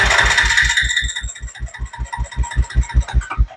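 A 2017 Honda Recon 250 ATV engine cranks without starting, giving a rapid, even chugging rhythm of starter strokes that carries on for a few seconds, close and loud.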